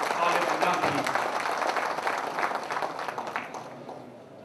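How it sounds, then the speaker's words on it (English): Applause from a seminar audience at a post-budget event greets a guest speaker, a dense wash of clapping that gradually thins and fades toward the end. "please give a warm round of applause to our guest speaker"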